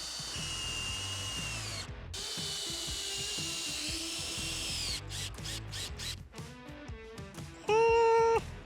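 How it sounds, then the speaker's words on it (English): A power drill driving screws to fasten a trolling motor bracket on a small boat, several short whirring bursts with pauses between them, ending in one louder high-pitched spin, close and without talking. "I'm just gonna screw it down just like that"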